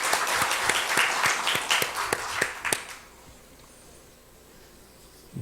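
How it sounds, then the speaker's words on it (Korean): A church congregation applauds in encouragement, a burst of clapping for about three seconds with distinct sharp claps, then fading abruptly into near silence. "격려의 박수 한번 보내주시기 바랍니다"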